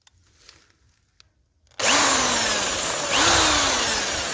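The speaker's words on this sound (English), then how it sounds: "I'm going to take my camera mounting box and I'm going to drill a hole with the step drill." A step drill bores a hole through a camera mounting box, starting abruptly after a quiet moment and grinding on loudly and steadily, with a second surge of cutting partway through and no talking.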